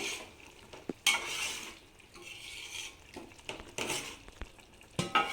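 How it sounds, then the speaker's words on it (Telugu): A spoon scrapes and clinks as chicken is stirred in a pot of simmering water and oil for biryani. The stirring comes in a few short, close bursts over a soft background hiss. "మధ్య మధ్యలో చికెన్ని ఇలా మూత తీసుకొని 1-2 సార్లు కలుపుకుంటూ ఉండాలి."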